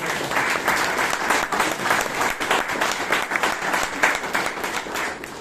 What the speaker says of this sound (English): Can we have one big round of applause?